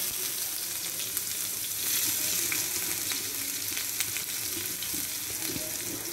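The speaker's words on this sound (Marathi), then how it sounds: "आपलं तेल गरम झालेलं आहे। आपण आता टाकणार आहोत तेजपत्ता, मग नंतर आपण कांदा टाकणार आहोत।" Bay leaf and onion fry in hot oil in a pan, giving a continuous close crackling sizzle with a few light clinks of stirring and no voices.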